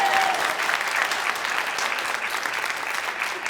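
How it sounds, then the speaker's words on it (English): An audience at a Boys & Girls Club Hall of Fame event in Nashua, NH applauds for Charlie, steady clapping from a crowd that carries on throughout. "you can clap for Charlie"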